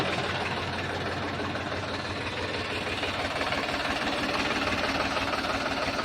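A Powertrac 439 tractor engine idles with a steady, low diesel chug and knocking rhythm, continuous and moderately close, with no talk over it.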